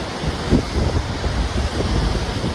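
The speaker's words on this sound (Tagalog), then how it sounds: "Sarap ng hangin." Wind roars steadily against the microphone in low, gusty rumbles, loud and continuous with no speech.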